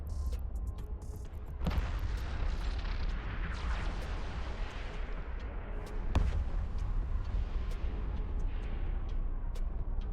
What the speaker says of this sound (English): Gotta love the explosion effects there.